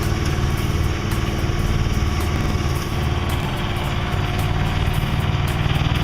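Sailboat engine running steadily on a Lake Michigan trip, held at varying RPMs; a close, loud, continuous mechanical drone with a buzzing rattle and faint ticking, with no speech over it.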